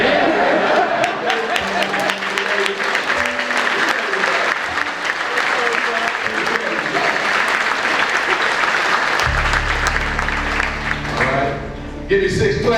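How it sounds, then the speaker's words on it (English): A crowd of people at a Washington Commanders event claps loudly and continuously, with dense overlapping applause under scattered chatter and voices, then a low rumble and a brief drop near the end. "we're going to clap 6 times"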